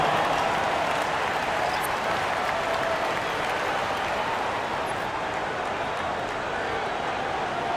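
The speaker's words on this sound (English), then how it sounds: "Give him a big round of applause." A crowd applauds in a basketball video game arena, a dense continuous roar of clapping and cheering at steady loudness, with an announcer talking over it.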